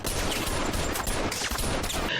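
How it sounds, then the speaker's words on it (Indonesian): Dense, continuous gunfire with rapid overlapping shots and loud bursts, like a sustained fusillade in an action scene. "tidak melepaskannya walau sudah ditembaki anggota si Audrey."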